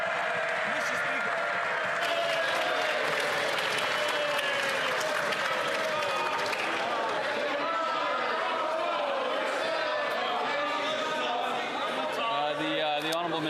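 Applause rings through the House of Commons chamber, a steady wash of clapping and crowd chatter lasting the whole stretch, with voices speaking over it.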